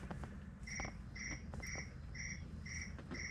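Crickets chirp beside a bay on northern Lake Michigan in steady, evenly spaced bursts of shrill pulses, repeating about twice a second over a soft low outdoor rumble.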